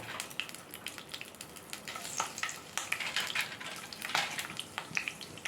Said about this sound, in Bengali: কাঁকড়ের খোসাটা ভেজে নেবো আগে ওই তেলেতেই